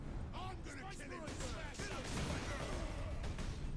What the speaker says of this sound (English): Firing self-propelled explosive tipped rounds.